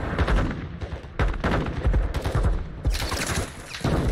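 Dense, loud gunfire in the video game Modern Warfare II, rapid automatic bursts and overlapping shots filling the whole stretch with only brief gaps, heard up close with no talk.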